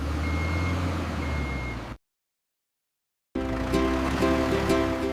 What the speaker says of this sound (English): It fills the dump truck with sand, ready for the next building job.